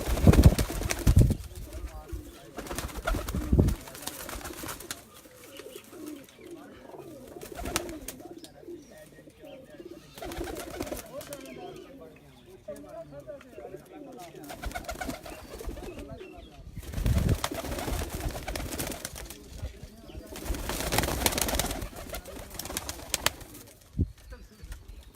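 Pigeons coo on a rooftop, soft repeated calls rising and falling over a steady murmur, with occasional wing flaps and nearby voices talking.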